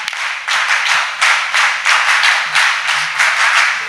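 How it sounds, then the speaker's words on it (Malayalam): NCC cadets clap for their teachers in a loud, close, rhythmic group clap, struck in regular bursts of even beats that continue for the whole stretch. "ഒരു കയ്യടി കൊടുത്താലോ ടീച്ചറിന് കൂടി, അലക്സാറിനും"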